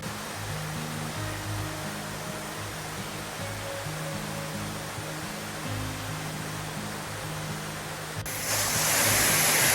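A waterfall in American Samoa roars as a steady broadband rush of falling water with faint low tones beneath it. The rush grows louder and brighter near the end.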